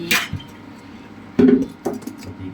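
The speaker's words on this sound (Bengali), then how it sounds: "আমি শাকটা আবার ঢেকে দিলাম।" Metal lid set back on a cooking pot of gourd-leaf greens in a home kitchen: a few short clanks and clinks, one near the start and a louder pair about halfway through, close and distinct with no talk.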